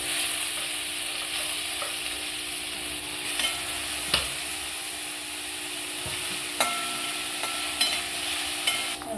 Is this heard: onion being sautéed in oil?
yes